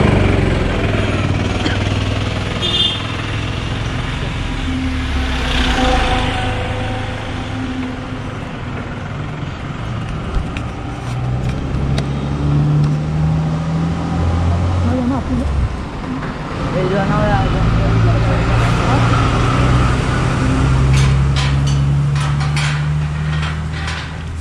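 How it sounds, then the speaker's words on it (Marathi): Road traffic on the Ratnagiri–Kolhapur highway, a steady broadband roar and engine rumble from vehicles passing nearby, continuous throughout with voices talking over it. "तुम्ही बघू शकता हा रत्नागिरी कोल्हापूर हायवे आहे।"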